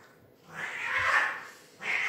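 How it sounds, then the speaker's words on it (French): Cats yowling and caterwauling in a scuffle, two loud drawn-out bursts of angry cries close by, with a brief pause between them. "Désolée pour le bruit, j'ai mes chats qui se battent."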